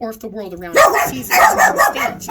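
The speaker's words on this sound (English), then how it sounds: "I am sorry about the dogs" Dogs bark and yip repeatedly nearby, loud and overlapping with a person talking.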